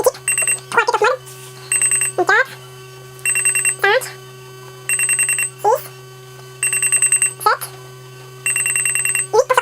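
Groups of electronic tone beeps from an RC model motor speed controller in programming mode repeat in a steady rhythm over a constant low hum, with short rising chirps sounding between the groups.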